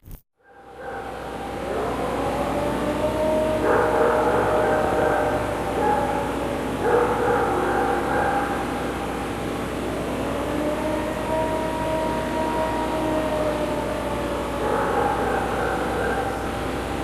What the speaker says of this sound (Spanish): El sonido es un aullido largo, parecido a una sirena, que dura varios segundos.